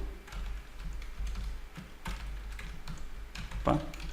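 Typing on a computer keyboard while writing Kotlin code: quiet, close, irregular key taps in short clusters over a low steady hum, with one sharper clack near the end.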